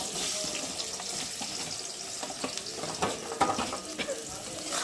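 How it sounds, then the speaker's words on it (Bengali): Onions frying in hot oil in a pan for a Bengali chicken kosha, giving a steady close sizzle with scattered crackles and pops throughout. "ফার্স্টে পেঁয়াজগুলোকে লাল লাল করে ভেজে নেব।"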